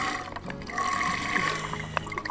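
Water squeezed out of a water bottle on a hiking trail on the Isle of Skye, a soft close trickle and splash of liquid lasting a couple of seconds.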